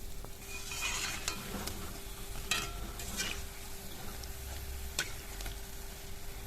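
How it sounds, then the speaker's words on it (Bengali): Pitha cakes fry over medium heat with a quiet, low-level sizzle, punctuated by occasional bright scraping and tapping sounds from turning them in the pan. "পিঠেগুলোর কিন্তু দু পিঠই সমান সমান করে ভাজা হয়ে গেছে।"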